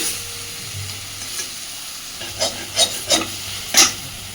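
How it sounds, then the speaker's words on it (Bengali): Taro leaves being stir-fried in a wok, cooked down until they stick to the pan, sizzle softly while a spatula scrapes in several distinct strokes toward the end. "কচু পাতাটা সুন্দরভাবে ভেজে নিয়েছি"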